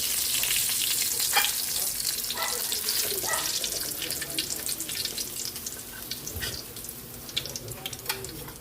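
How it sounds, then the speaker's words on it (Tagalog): Fish frying in a pan in a home kitchen, a steady close sizzle and crackle with occasional clinks of a utensil and faint running water in the background, no speech. "Hanguin na natin yung ating pritong isda."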